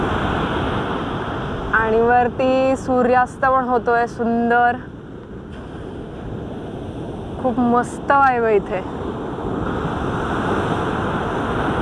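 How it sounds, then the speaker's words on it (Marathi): High waves crash and surge on an untouched Kerala beach under wind at sunset, a steady rushing roar beneath a person talking in two stretches. "असे उंच उंच लाटा येत आहेत आणि जोरात आदळतात"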